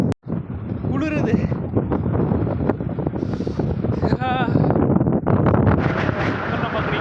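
Strong wind buffets the microphone at a hilltop viewpoint near an elephant waterfall, a loud continuous roar and rumble that persists throughout, with people talking faintly beneath it.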